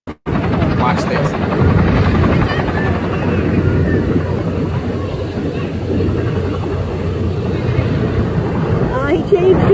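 A helicopter at a mass casualty response at Huntington Beach, California, its loud close rotor chop and engine roar steady and continuous, with voices faintly mixed in.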